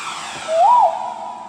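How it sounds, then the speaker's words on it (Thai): A brief whooshing, rising-and-falling synthetic rocket tone from an SV800 keyboard pad, over a hissy background, like a small firework or rocket launch effect. "อันนี้เป็นบั้งไฟ"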